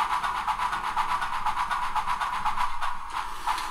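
A model locomotive fitted with a Tsunami2 sound decoder runs with a steady rhythmic chuffing and clatter, evenly pulsing and close, with no talking over it.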